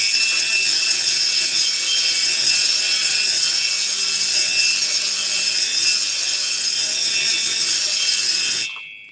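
A homemade flap sander, a slotted drywall screw holding abrasive, grinds inside an engine crankcase during a big bore kit fitting, giving a steady high-pitched whirring rasp that runs close and loud for about nine seconds before cutting off abruptly.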